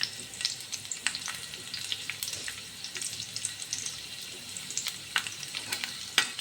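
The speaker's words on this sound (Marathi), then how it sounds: "तर लसूण नीट फ्राय करून देते." Garlic frying in a pan, a soft continuous crackling sizzle scattered with small sharp pops and spatters, fairly quiet and close, with no voices.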